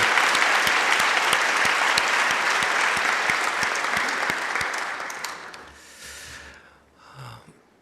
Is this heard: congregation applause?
yes